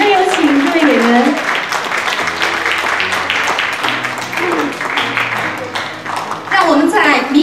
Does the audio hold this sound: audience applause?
yes